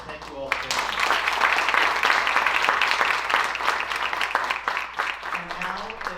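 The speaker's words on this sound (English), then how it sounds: "And a big round of applause for our donors." Applause from an audience at an Italian scholarships and awards ceremony honoring donors, a burst of clapping that swells and holds, mixed with voices talking over it, then tapering off.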